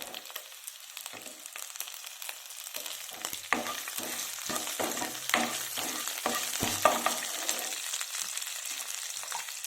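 Green chillies fry in a pan for a soya chunks (meal maker) masala curry, a crackling sizzle broken by repeated stirring scrapes and clatters against the pan, close and moderately loud without talk.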